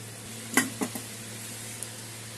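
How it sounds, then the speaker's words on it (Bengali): Lentil fritters (daal bora) frying in oil in a wok give a faint, steady hiss, broken by a few soft clicks and spatters early on. "এখন ভাজা হবে, কড়াইতে দিয়ে দিয়েছি,"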